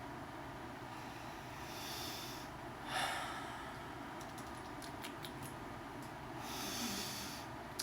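A person sniffs at a bottle of Dasani purified water after shaking it, a few soft nasal sniffs close to the mic over a steady background hum, with one stronger sniff standing out midway.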